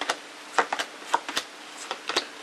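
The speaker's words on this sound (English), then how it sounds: "I'm just giving the cards a quick shuffle now" A deck of tarot cards is shuffled by hand in a quiet room, giving a string of short, crisp papery riffles and taps in an irregular rhythm, close and fairly soft, with no talking.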